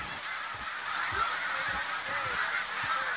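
Canada geese honk repeatedly as a flock passes overhead in flight, a steady chorus of nasal calls with several louder honks standing out over continuous background chatter.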